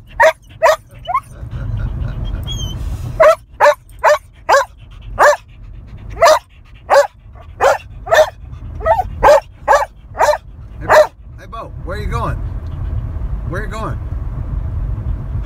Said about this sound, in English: Pretty soon he'll start barking.